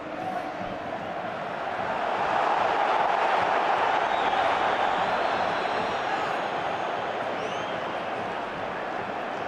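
Massive roar of a football stadium crowd at an Atlético vs Real Madrid Copa del Rey match, a dense continuous din that swells louder after a couple of seconds and stays intense, with chanting and cheering blended together.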